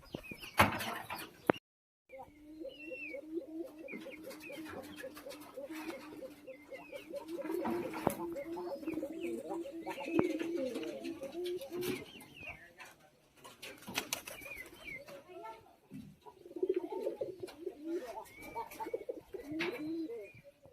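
Pigeons on a rooftop loft coo in repeated throaty, rolling phrases close by, with short pauses between bursts, along with occasional sharp knocks and brief chirps, and one abrupt silent gap near the start.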